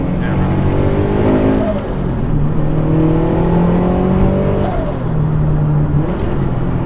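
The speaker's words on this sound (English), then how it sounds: "The auto rev matching is perfect." Turbocharged Subaru BRZ / Toyota 86 engine heard from inside the car, with steady loud engine drone and rising and falling rev tones as the auto rev-matching blips on downshifts, continuous throughout.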